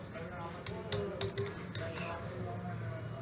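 Someone types a command on a computer keyboard: a quick cluster of light, crisp keystrokes followed by a few sparser taps, all fairly quiet and close.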